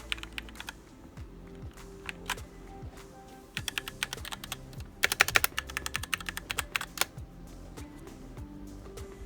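Typing on an Apex 7 mechanical keyboard, a brisk run of close, crisp key clacks in irregular bursts, growing denser and louder toward the middle, with no speech.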